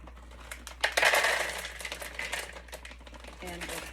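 Chocolate wafers poured into a bowl for cocoa bombs, a dense hard clattering rush that peaks early and then trickles off into scattered small clicks against the bowl.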